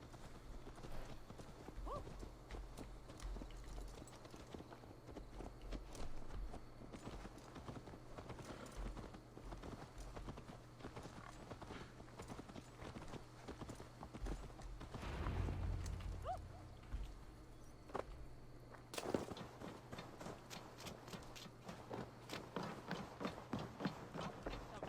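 Horse hooves clip-clop in Assassin's Creed Valhalla, a steady run of light footfalls throughout, mixed with game ambience and a low droning background.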